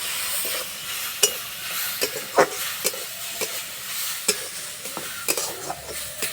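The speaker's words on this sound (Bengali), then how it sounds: "জল দেবো না এইভাবে নাড়াচাড়া করে রান্না করে নেব" Semolina filling is stirred and cooked in a dry pan, with no water added, to a soft continuous sizzle. A spoon scrapes and taps against the pan at irregular intervals, close and fairly loud.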